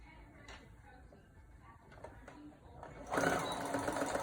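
A domestic sewing machine stitches a cloth face mask, its motor whirring faintly before surging into a louder, steady run near the end, with back-stitching at the top and bottom of the seam.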